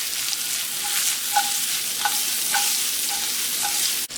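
Mushrooms sizzle in a hot pan beside bacon. A steady crackling hiss runs throughout, with light stirring scrapes at regular intervals, close up, and no voice.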